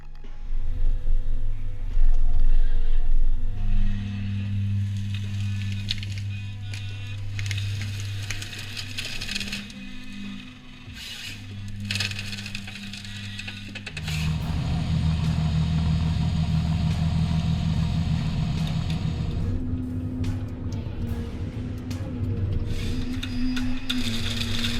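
A forestry harvester head working on a tree: a steady heavy engine drone with layered humming tones that shifts into a thicker, rougher grinding roar partway through, continuous and close.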